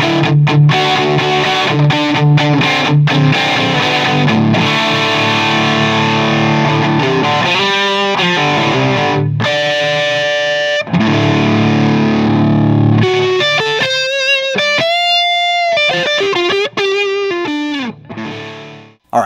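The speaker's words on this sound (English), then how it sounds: "let's move on and check out the crunch pedal." An electric guitar plays chords and sustained notes through a crunchy overdrive, loud and gritty, with no talking.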